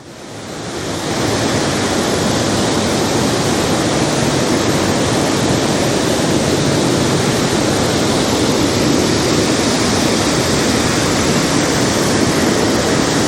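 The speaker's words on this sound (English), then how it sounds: "Falls of Falloch in all their beauty." Falls of Falloch waterfall in Scotland, a steady, loud broadband roar of rushing water that holds unchanged throughout, with some wind buffeting on the microphone.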